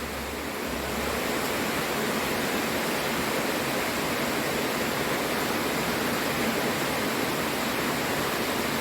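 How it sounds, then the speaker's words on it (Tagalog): Steady rain pours down on a wet Wednesday, a dense, even hiss that holds at the same close, loud level throughout with no voices. "Saka maulan pa rin guys talaga, ayan oh. Maulan pa rin."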